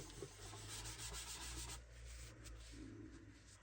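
Oil being rubbed by hand into the wood of a handmade seven-string lyre, a close, steady rubbing and swishing that continues without pause, with no voices.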